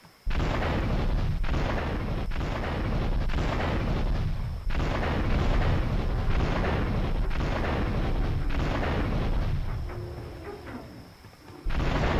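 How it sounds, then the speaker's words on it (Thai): A planted bomb going off in GTA 3, with a string of heavy booming blasts and crackling bursts packed tightly together, loud and continuous for about ten seconds before fading, then one final hit. "เอกบอลวางระเบิดเลยเพื่อน"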